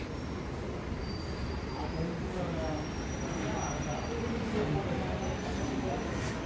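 A train at Ramagundam railway station makes a steady, moderately loud rumble throughout. A faint wheel squeal and a low murmur of voices sit in the background.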